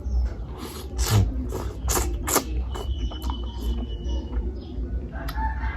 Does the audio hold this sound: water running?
no